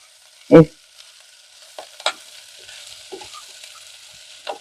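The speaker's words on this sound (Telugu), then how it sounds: "మనం వేసిన మసాలాలన్నీ దొండకాయలకు పట్టుకొని కొంచెం డ్రైగా అయ్యేంత వరకు వేపుకోవాలండి" Masala-coated ivy gourd (tindora) frying in oil in a pan, a loud stirring scrape up front followed by a few scattered clinks and soft sizzle beneath, no one speaking.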